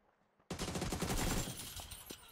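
Sustained gunfire in the battle-royale game PUBG during a squads match, a burst of rapid overlapping shots that starts abruptly after a short quiet lead-in and continues loudly, tapering slightly toward the end.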